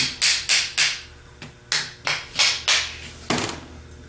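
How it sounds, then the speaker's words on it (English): Hammer tapping on the aluminum housing of a Ford 3G alternator held from the back, about ten sharp, close metallic knocks in an uneven rhythm, the last one ringing slightly longer. "hold it by the back and start tapping on the aluminum"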